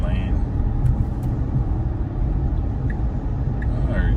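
A Tesla running Full Self-Driving on the highway, heard from inside as a steady low road rumble with a few faint ticks over it, and someone talking.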